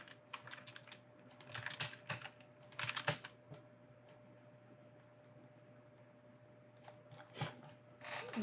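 Quick, light key clicks tap on a computer keyboard, with bursts of typing and single keystrokes such as Enter spread across the span and quiet pauses between them.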